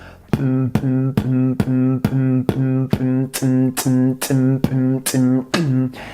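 A beatboxer imitates a bass drum with a steady, even run of about a dozen punchy low beats, a continuous hum droning between the hits.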